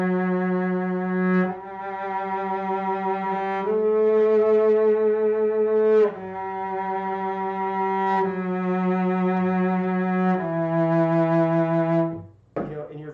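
A cello sustains long bowed notes with vibrato, a slow phrase of several held pitches changing every couple of seconds, close and alone, ending with a brief scrape.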